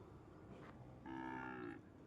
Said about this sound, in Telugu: ఈ రెండు ఎద్దులే, జత ఎడ్లు.